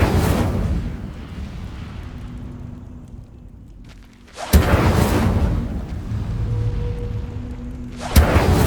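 Incendio fire spell bursts in Hogwarts Legacy: three loud, rumbling fiery blasts, one at the start, one midway and one near the end, each swelling then trailing off into a low roar.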